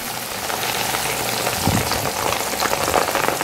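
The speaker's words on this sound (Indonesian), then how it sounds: "Kita akan goreng kupang ni dalam minyak yang telah dipanaskan." Small kupang mussels fry in heated oil, giving off a loud, steady crackling sizzle with a few sharper pops, close by and with no voices.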